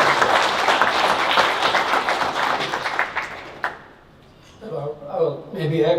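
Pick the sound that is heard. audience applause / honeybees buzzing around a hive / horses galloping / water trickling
audience applause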